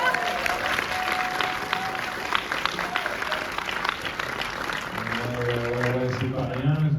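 An audience applauds at a film presentation, with dense, steady clapping filling the room and some voices mixed in throughout.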